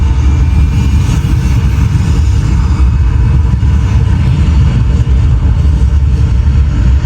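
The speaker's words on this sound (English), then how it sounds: "We have main engine start. 5, 4, 3, 2, 1. Liftoff." Simulated rocket liftoff on the Epcot Mission: Space ride roars as a loud, dense, continuous low rumble that holds steady throughout.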